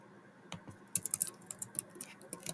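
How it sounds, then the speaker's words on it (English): Computer keyboard typing: a quick, uneven burst of light key taps and clicks, close and fairly soft, with a short pause partway through. "What the fuck am I typing?"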